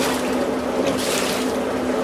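Water mixed with tanning solution sloshes and churns steadily as sheepskins turn in a rotating drum at a traditional furrier's workshop, a continuous close wash of liquid noise with a low mechanical hum beneath.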